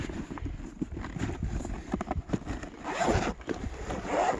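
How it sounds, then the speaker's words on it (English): A clothing zipper is pulled open in short rasping bursts, close to the microphone and fairly loud, outdoors with faint wind in the background. "I should have unzipped this"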